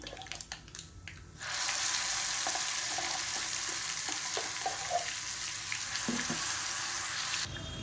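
Mustard seeds, urad dal and curry leaves hit hot oil in a pan for a kara chutney tempering, giving a sudden loud, continuous sizzle with faint crackles, heard close and with no talk.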